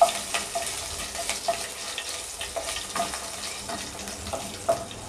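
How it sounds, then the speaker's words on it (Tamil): Ginger garlic paste frying in a pan makes a steady, soft sizzle with light scraping stirs and small clicks throughout, close but fairly quiet, with no one talking. "நல்லா ஃப்ரை பண்ணி விட்டுக்கலாம்"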